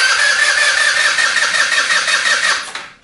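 A GY6-engined Ruckus scooter on an adapter wiring harness cranks loudly. A harsh, whirring starter-and-engine noise holds steady for nearly three seconds, then stops abruptly. No voices.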